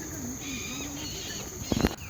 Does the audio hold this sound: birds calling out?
yes